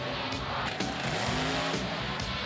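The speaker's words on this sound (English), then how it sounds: "Monster trucks." Monster trucks at a mud and monster truck event, engines roaring loud and steady with a rough rumble and brief tire squeal, no talk.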